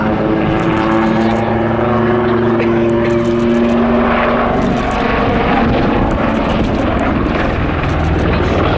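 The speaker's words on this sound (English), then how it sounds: "The aircraft will come into the hover for the first of its, I think it's fair to say, its characteristic manoeuvre." A Royal Navy Westland Wildcat HMA.2 helicopter hovers at the Cosford Air Show 2024, loud and close. It gives a continuous heavy turbine whine and rotor roar that stays steady throughout.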